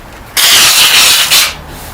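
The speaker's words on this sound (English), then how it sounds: "Give this whole thing a rough up. 36 grit on a soft foam block." Render on a pizza oven build is roughed up with 36 grit sandpaper on a soft foam block, a loud abrasive scrape lasting about a second before stopping.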